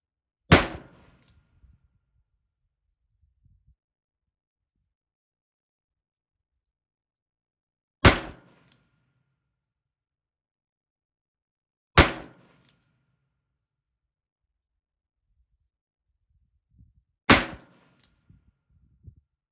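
A Ruger Super Wrangler revolver fires four separate loud, sharp shots spaced several seconds apart, each cracking out from silence with a short ringing tail and faint handling noises between.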